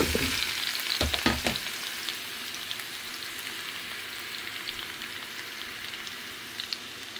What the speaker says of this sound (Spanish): Y voy a ir removiendo para que mi zucchini se hagan a fuego bajito